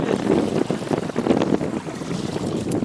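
Strong wind buffets the microphone in loud, gusting roars on dunes by the water while carp fishing, with no voices.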